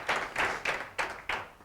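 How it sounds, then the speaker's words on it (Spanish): A few people clap for a house music DJ in a small studio: five or so loud, close, bursts of claps spaced in a loose rhythm, with no talk. "vamos a dar un aplauso, que es un house master"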